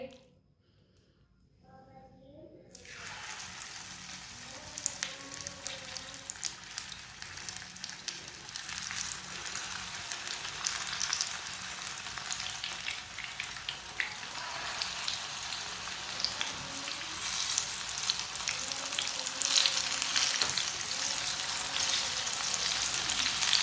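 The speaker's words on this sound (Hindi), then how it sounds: "थोड़ा थोड़ा पेस्ट लेंगे, इसी तरह अब पकोड़े डालते जाएंगे।" Spoonfuls of pakora batter paste drop into hot oil over a lowered flame, setting off a dense crackling sizzle that starts from silence and steadily grows busier and louder.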